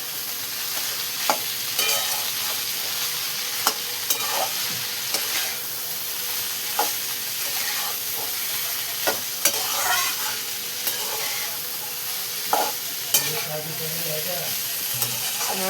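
Cabbage and green peas fry in a pan under a spoon, giving a steady, close sizzle broken by regular scraping strokes of the stirring.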